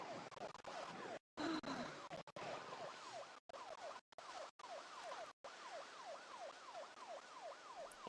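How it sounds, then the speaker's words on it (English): Emergency siren in the video game Project Zomboid, a repeating rising-and-falling wail cycling steadily over background hiss, with a few brief dropouts. "They hear the siren and they're like, what's that?"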